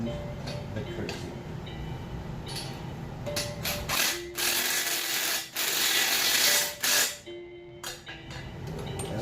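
A ratchet fitted with a 14 mm socket tightens an engine bolt for a C10 on an engine stand, giving quick clicking strokes in bursts with brief pauses and some clanking in between.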